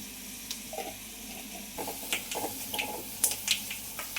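Mustard, fenugreek powder and chili powder sizzling in hot oil in a pan for a prawn pickle, a close steady crackle with small pops and stirring clicks that grow busier toward the end.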